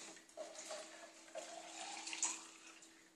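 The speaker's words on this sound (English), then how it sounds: "Top up a bit more water." Water trickles and splashes steadily at close range as it is topped up into a Philips Avance QuickClean juicer to flush it, a soft, continuous pour with no talking.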